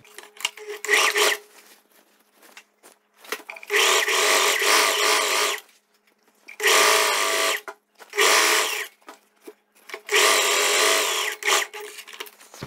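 Close and fairly loud, a sewing machine stitches the center back seam of a viscose dress in four or five sustained whirring runs separated by brief stops.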